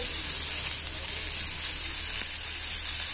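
Cumin seeds sizzle in hot oil in a pan, a steady loud close hiss and crackle with no talking.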